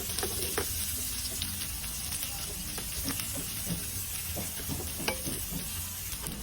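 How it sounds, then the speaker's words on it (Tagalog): Ginger frying in a pan with onion and garlic, a loud continuous sizzle and hiss with scattered clicks and scrapes of stirring, and faint talk underneath. "sinunod na po natin pagisa ang ating luya mga idol"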